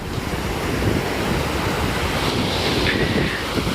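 Sea waves roll in at a Karachi beach in December, a loud continuous surf wash mixed with strong wind buffeting the microphone, with no voices over it.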